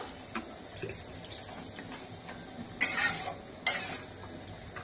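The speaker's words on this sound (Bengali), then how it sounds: "এবার আমি পরিমাণ মতো একটু জল দিয়ে দিচ্ছি।" A little water goes into sizzling Chettinad chicken in a pan. A quiet frying hiss with light stirring is broken by two short, brighter hissing bursts as the liquid hits the hot pan.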